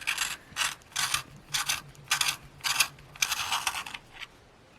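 A T'GAAL multi pencil sharpener works on a Prismacolor coloured pencil, giving about eight short, crisp grinding bursts in a steady rhythm with brief pauses between, close and fairly quiet, ending in a longer run.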